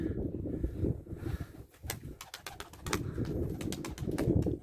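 Pigeons coo softly nearby while wings flap in quick bursts midway through, with a breezy background.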